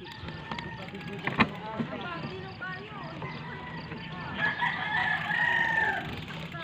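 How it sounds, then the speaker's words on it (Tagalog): Chickens cluck and a rooster crows, moderately near, with a brief sharp knock early and scattered voices talking underneath. "Dami manok ah."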